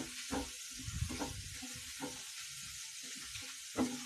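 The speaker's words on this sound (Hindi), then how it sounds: "ये हमारा लहसुन भुनने लगा है" Garlic fries in oil for palak paneer, a soft, low crackling sizzle with a few stirring knocks, fairly quiet and heard alone.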